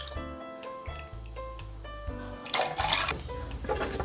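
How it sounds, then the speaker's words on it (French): Seasoned tomato juice is poured into a Bloody Mary, a close liquid glug and trickle with a gurgling fill over steady background hum and some low music-like tones, ending in a brighter splashing burst. "On va ensuite y prendre donc notre jus de tomate déjà assaisonné et on va y mettre donc 12 centilitres."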